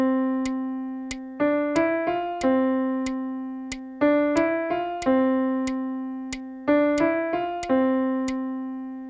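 A piano plays a short phrase three times, with a low note held for two and a half beats in each, then quicker rising notes; clean, close and alone.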